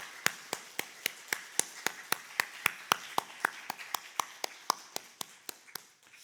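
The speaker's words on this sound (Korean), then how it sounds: "우리 박수 한번 할까요?" Clapping in a church, a single steady rhythm of crisp, evenly spaced claps at a quick tempo, fairly faint and close, slowing slightly and fading toward the end.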